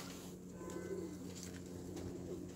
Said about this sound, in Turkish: Şunlar da benim kuşlarım. Toprak yiyorlar.